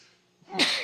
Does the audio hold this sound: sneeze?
yes